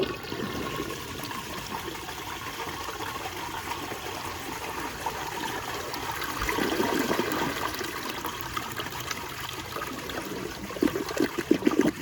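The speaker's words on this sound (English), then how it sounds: "here's a flush" A 1916 James B. Clow & Sons Undine toilet, leaking and plugged, flushes with a steady rushing gush of water and trickling that swells midway and gurgles toward the end, close and continuous with no talk.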